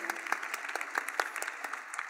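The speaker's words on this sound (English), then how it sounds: "we can give her a round of applause." Audience at a Congressional Black Caucus Foundation HBCU event applauds Congresswoman Adams, with a mix of distinct individual claps and sparser hands in a fairly close, lively burst.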